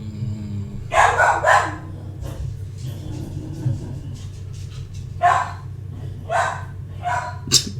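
A dog barks repeatedly in the background, several short loud bursts in two clusters with a low rumbling hum underneath.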